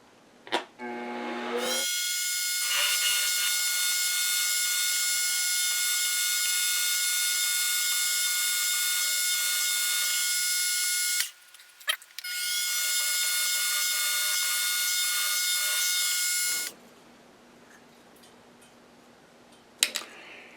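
A drill bores a 1/4 inch pilot hole in a metal vise block for a fixture plate, a loud high screeching whine held for long stretches with a brief pause in the middle before stopping.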